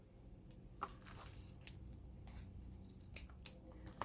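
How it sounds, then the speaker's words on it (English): Small scissors snip the ribbon ends of a bow, several sharp, quiet cuts spaced irregularly against a faint background. "I'm going to trim up the ends a little bit."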